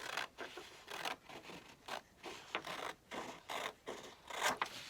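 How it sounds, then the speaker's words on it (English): Scissors cut along the fold of a sheet of paper for an art project, a series of close, crisp snipping and scraping strokes in a regular rhythm, alone without talk. "I need to cut right down that line very carefully"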